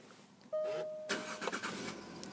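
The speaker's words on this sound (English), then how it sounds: "We just get the car started up." Jaguar XF Premium Luxury automatic diesel engine cranking and starting, a sudden rise into a steady running note, followed by a few clicks and a brief catch before settling into idle, heard up close from inside the car.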